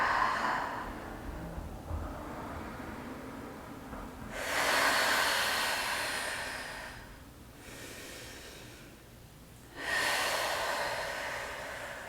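Slow, deep breaths during a mat Pilates exercise for the posterior chain muscles, long airy inhales and exhales rising and falling in a steady rhythm, close and alone with no talking.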